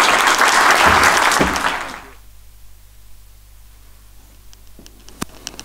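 An audience at a sustainable finance dialogue in Casablanca claps loudly for about two seconds, then the applause cuts off into near silence broken by a few faint taps and rustles.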